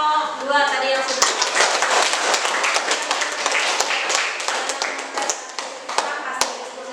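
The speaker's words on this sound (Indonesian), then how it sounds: "Oke, kita kasih tepuk tangan untuk kelompok 2 tadi" Audience in a classroom clapping for a student discussion group, close and lively with dense irregular claps and a few sharp louder ones, a voice heard at the start before the clapping takes over.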